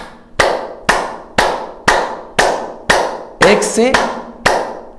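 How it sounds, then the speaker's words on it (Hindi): One person claps hands as a simple morning exercise, giving loud, evenly spaced single claps at a steady rhythm, close and crisp, with a brief spoken word in the middle. "सिर्फ ताली बजाना"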